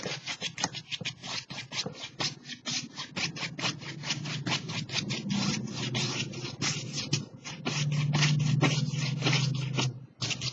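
Dry brush crisscrossing over canvas, blending blue paint into red: a steady run of quick, close, dry scraping strokes with a rasping rhythm, continuing with a low hum beneath, no voices.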